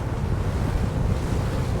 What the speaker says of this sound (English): it's still pretty windy, not flat calm like it was supposed to be